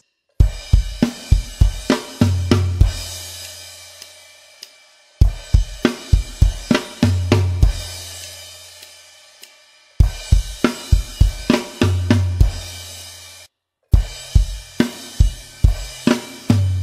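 A drum kit plays the final fill of a song four times, rapid hits tumbling across toms and snare into a booming crash, each pass ringing out before a short gap.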